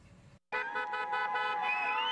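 Car horns honk at a street rally against the Hobby Lobby decision, a loud, sustained chorus of overlapping horns starting abruptly after a brief silence.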